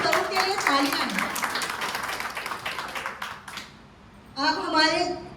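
Applause breaks out at an Independence Day celebration for a mother-in-law and daughter-in-law, a dense patter of many hands mixed with voices, fading into a lull before a fresh burst of clapping near the end.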